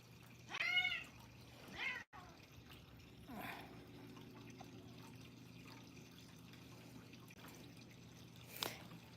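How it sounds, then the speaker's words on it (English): A cat meows twice near a small cat water fountain, followed by faint trickling and a low steady hum from the fountain, with a couple of soft clicks and a brief sharp sound near the end. "It is a fun fountain, a little fountain to have."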